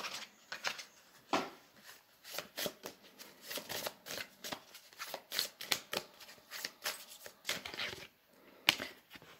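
A deck of energy cards being shuffled by hand, with repeated crisp riffling and slapping bursts in a steady rhythm, close and fairly loud, with no talking.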